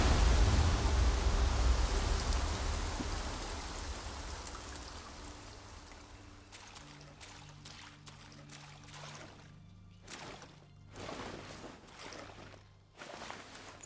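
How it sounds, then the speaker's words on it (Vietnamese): A waterfall in Black Myth: Wukong gives a steady hissing rush of water that starts loud and gradually recedes, with scattered clicks and light steps breaking through once the roar thins out. "Đây là khung cảnh thác nước"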